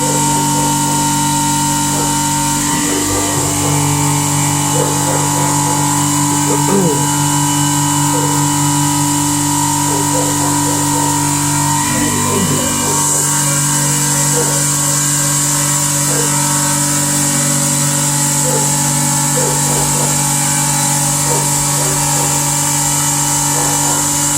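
A CNC mill, the PM-30MV, cuts aluminum with a shallow step-over and nearly inch-deep pass, giving a loud, steady machining whine with a motor hum underneath and periodic shifts as the cutter moves through the stock.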